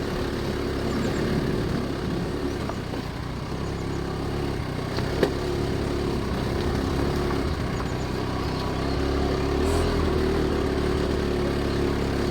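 A motorcycle climbs a rural road on Sibuyan Island in the Philippines. Its engine drones steadily and evenly up close for the whole stretch, with wind rumble and no speech.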